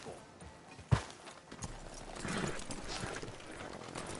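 Horse hooves clop in a PS4 video game, a sharp thud followed by soft, quiet, irregular steps under a low background hum, with speech nearby.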